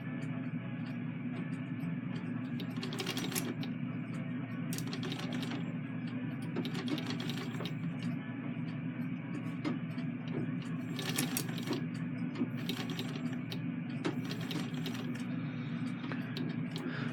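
A treadle sewing machine runs at low volume with a steady mechanical whir, cut by bursts of clicking and clattering from the needle mechanism that start and stop in short runs.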